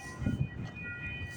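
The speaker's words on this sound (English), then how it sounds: "we got a CPKC train coming" A southbound CPKC freight train passes trackside at Islington Avenue in the very early morning, giving a steady, close, heavy rumble of rolling railcars with no horn.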